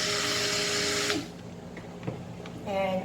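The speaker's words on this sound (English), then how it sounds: "So I do stick blending and manual stirring at the same time." A stick blender whirs loudly through soap batter for skin-lightening, anti-acne soap, then cuts out to quieter stirring before starting up again at the end.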